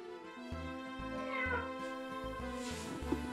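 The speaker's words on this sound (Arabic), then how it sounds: "هيا شوفوا هذه القطة" A cat meows repeatedly in drawn-out, wavering cries over a steady background hum, close and clear with no talk.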